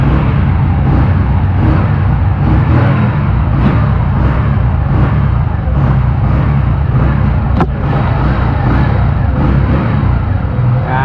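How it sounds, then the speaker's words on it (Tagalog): A Kawasaki Bajaj CT125 motorcycle engine, 2023 model, idles steadily and close by for the whole stretch, a continuous low rumble with one brief sharp click near the end. "Ganyan ang tunog ng ating Kawasaki Bajaj 125."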